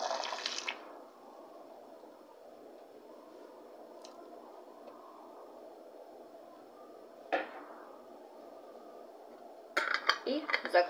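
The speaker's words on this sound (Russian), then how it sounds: "Наливаем наш рассол кипящий." Boiling brine pours steadily into glass jars of pickled tomatoes, a soft continuous gurgling stream, framed by sharp clinks of glass and metal at the start and a cluster of clattering knocks at the end.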